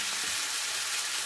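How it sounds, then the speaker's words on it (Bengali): Potato pieces, green peas and eggplant fry together in a pan with a steady, even hiss of hot oil, close and continuous with no voices. "এই আলু ভাজতে ভাজতেই আমি এর মধ্যেই সব কিছু দিয়ে দেবো, মশলা সবজি।"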